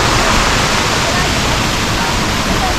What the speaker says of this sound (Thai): ก็มีน้ำตกเล็ก ๆ เนี่ยนะครับตรงวัดพระธาตุ